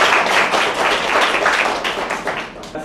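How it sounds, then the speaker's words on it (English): An audience at a science slam event applauds steadily, dense clapping that stays loud and even throughout with no break. "applause for Ariana"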